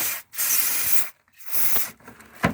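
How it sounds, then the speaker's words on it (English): WD-40 contact cleaner hisses from an aerosol can onto a pin of a Rowe jukebox cam switch motor assembly in three close, sharp bursts, then a short faint spritz. "We're going to spray this on the pin."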